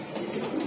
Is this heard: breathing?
no